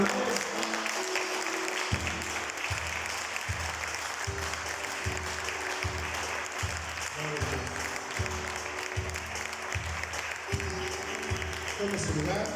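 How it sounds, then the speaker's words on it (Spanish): A church congregation at a Spanish-language Sunday service claps loudly and steadily throughout, with a rhythmic low music beat running underneath and voices mixed in. "¿Por qué no damos un fuerte aplauso al Señor"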